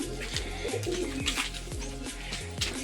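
Domestic pigeons at a loft coo in a steady, overlapping chorus of low rolling calls, close by and continuous, with no talk over them.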